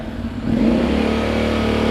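A 2020 Honda X-ADV750 scooter with a genuine Termignoni slip-on exhaust is revved up from idle, its close, loud engine note rising sharply and then holding a strong, steady drone.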